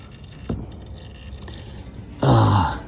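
Used motor oil drains from the engine of an Exmark Lazer Z mower, giving a few soft drips and trickles, then a brief louder burst near the end.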